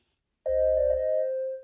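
A single sustained synth melody note from an Afrobeat production in FL Studio, EQ'd to thin the low end, rings out clean and steady after a short silence, then fades.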